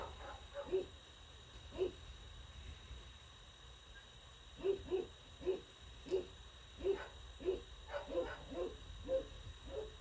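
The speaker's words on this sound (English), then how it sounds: "if y'all hear my dog barking, she is like right here." Dog barking in repeated short bursts, a few single barks then a quicker cluster, moderately near, over steady background hum during a knife-sheath build.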